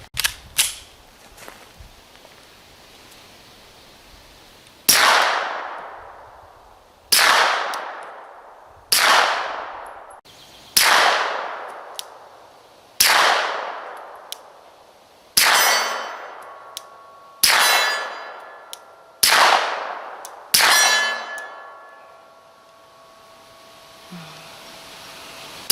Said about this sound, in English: So while I'm waiting, I'm going to run a couple rounds downrange.